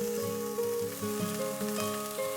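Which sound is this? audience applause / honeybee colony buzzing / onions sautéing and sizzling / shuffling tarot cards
onions sautéing and sizzling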